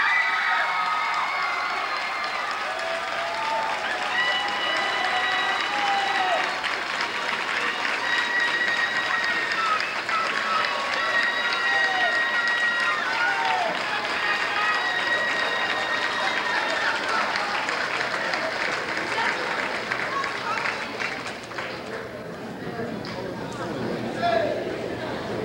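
A graduation crowd at Bridgeton High School fills the hall with sustained, dense applause and some cheering, steady and fairly loud for over twenty seconds before easing slightly near the end.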